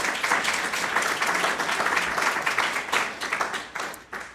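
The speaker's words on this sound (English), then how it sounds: "let's give them a big round of applause anyway" Applause from a morning awards ceremony crowd, a dense patter of many hands clapping that stays strong before thinning out toward the end.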